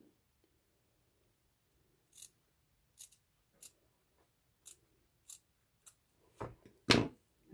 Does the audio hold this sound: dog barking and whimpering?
no